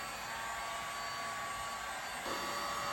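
Handheld heat gun baking fresh paint onto a 2007 Kawasaki KX250 two-stroke motorcycle part, a steady loud blowing whir held close throughout with a slight shift in tone near the end.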